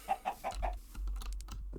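Chickens cluck in a video game, four quick clucks in a row followed by softer clattering clicks, over a low hum.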